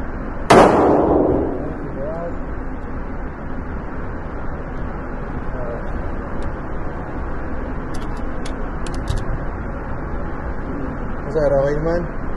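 A single gunshot cracks loudly and close by at the start and quickly fades, followed by steady background noise, faint distant pops and brief speech.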